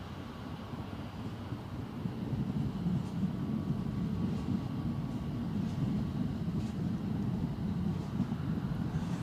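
An EasyJet airliner departing Newcastle Airport, a steady distant low jet roar with some wind noise, sustained and fairly faint.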